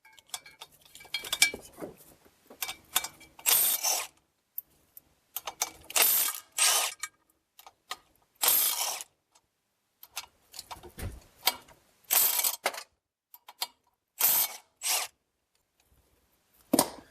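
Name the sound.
removing six 17 mm bolts from a 2014 Ford Escape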